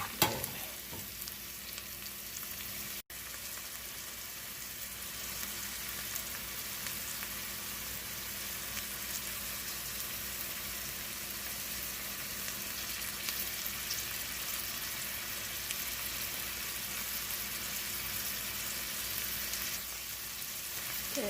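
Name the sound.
onions sautéing in a pan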